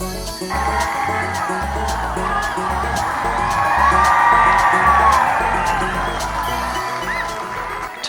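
A crowd at an outdoor donkey event cheers and whoops for a child struggling with an animal, a loud continuous roar of mixed voices that swells midway, with speech under it.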